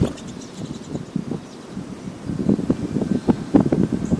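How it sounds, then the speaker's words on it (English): Gusty wind after a hurricane, with gusts around 30 miles per hour, rushes and rustles through foliage in uneven surges that build louder toward the end. "We still have winds gusts in the 30-mile-an-hour range after the hurricane passed through this morning."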